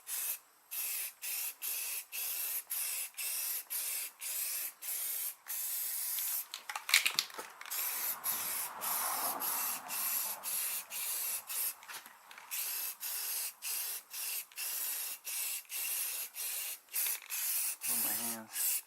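An aerosol can sprays a coat of paint onto a 1996 Ford Mustang in short, repeated close hissing bursts with brief gaps between them, plus faint handling noises partway through.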